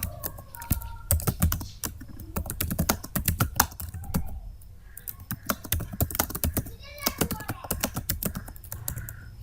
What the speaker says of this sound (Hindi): यहाँ पे अपना कुछ कंटेंट टाइप करते हैं।